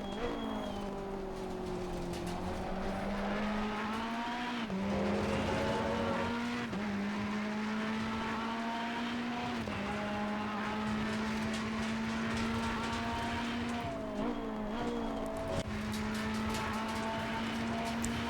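Ferrari 488 EVO GT3 racing at Imola in Assetto Corsa Competizione, a steady high engine whine that rises and dips through gear changes and corners, continuous and prominent with no talk.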